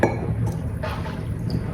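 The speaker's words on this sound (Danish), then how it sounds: "efter skal vi have en halv kop vand herned" Water poured from a cup into a container of pasta before microwaving, a short wet gurgling splash with a faint glassy clink, close and fairly quiet, with no talking.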